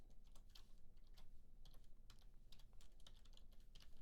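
Someone types an email address on a computer keyboard, with quick, irregular key clicks close by and no talking.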